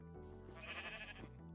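A Minecraft sheep bleats once, a short wavering baa heard close and clear over a steady soft background of game music.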